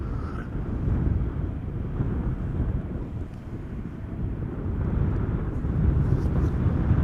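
KLM airliners, an Embraer 175 and a Boeing 777-300ER, arrive at Amsterdam Schiphol Airport, a low, distant jet roar that swells gradually, mixed with gusty wind buffeting the microphone.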